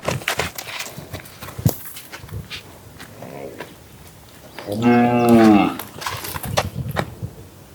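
Young bulls and calves on a farm let out a loud, drawn-out moo partway through, set among scattered knocks, shuffling and livestock noise, with voices talking nearby.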